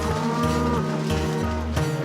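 Cattle moo repeatedly near a boggy swamp edge, several loud, drawn-out lowing calls close by in quick succession with no talk.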